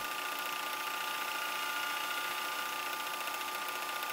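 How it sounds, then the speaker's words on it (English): A milling attachment machining a metal bar down: a steady, even mechanical whine with a high-pitched hum and fine grinding texture, constant and close, with no talking. "So here I've started machining this bar down."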